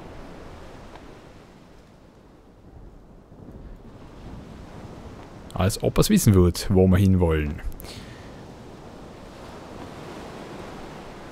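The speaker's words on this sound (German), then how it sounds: "Ja, der Wind ist wirklich sehr stark" Strong wind and ocean surf roll steadily through a sailing scene in the game Sid Meier's Pirates!, a broad continuous rush that swells and fades, with someone talking briefly in the middle over it.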